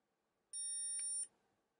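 A SEESII battery spot welder gives one short, clean electronic beep lasting under a second while its power button is held down, in an otherwise quiet room.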